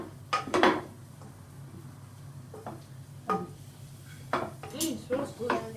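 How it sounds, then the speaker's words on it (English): Spices stirred in a pan for a paneer curry with ginger and garlic, giving scattered soft metallic scrapes and clinks of the utensil against the pan over a low steady hum, with faint voices now and then. "Now Stan, you'll keep stirring just to cook those spices."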